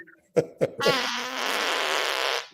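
Two short, sharp flatulent bursts open, followed by a long, loud, sustained fart that buzzes steadily for about a second and a half before cutting off, with no talking.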